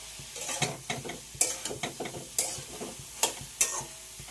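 Soybean chunks fry in hot oil with cumin, black cumin, bay leaf and cinnamon, crackling with bright sputters and spitting pops over a constant sizzle, alongside several sharp clinks of a spatula against the pan.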